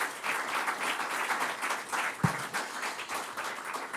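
An audience at the presentation of an olive oil festival in Castelgomberto breaks into applause, a steady dense clapping that holds at moderate volume for several seconds with no voices over it.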